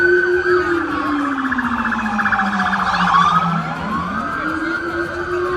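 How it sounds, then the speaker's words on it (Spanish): Police sirens wail loudly as they pass close by on a Miami street, their pitch sweeping and dipping with the motion, over street traffic noise. "a cada rato suenan las patrullas donde pasan"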